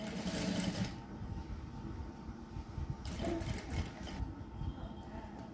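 A sewing machine runs a topstitching seam along the joined piece of blouse cloth, giving a steady, close mechanical whirr that pauses briefly and then resumes.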